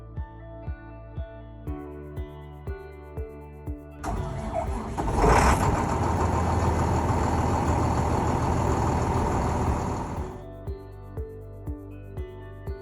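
A crane's diesel engine is started with the key: it cranks and catches, then runs at a loud steady idle for about six seconds before cutting off, with rhythmic ticking before and after.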